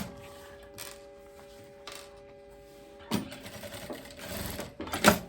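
A sewing machine stitches a seam in a faux leather skirt, running in a few short bursts of rapid mechanical whirring, close and fairly loud, with quiet gaps between.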